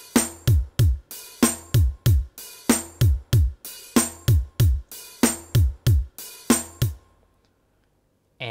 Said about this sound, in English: So when you put the beats together,